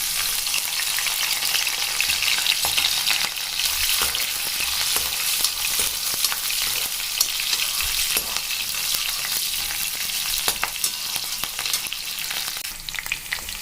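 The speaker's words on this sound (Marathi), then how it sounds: "इथं आपलं तेल तपलेलं आहे आता मी त्याच्यामध्ये हे मिरची आणि लसूण ॲड करणार आहे" Chili and garlic fry in hot oil, giving a loud, steady, dense sizzle that crackles continuously and close up throughout, with no voices over it.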